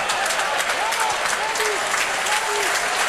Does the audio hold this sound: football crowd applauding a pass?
yes